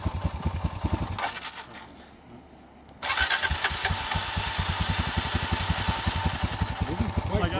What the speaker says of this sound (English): It's idling! It's idling! The idle circuit is clear!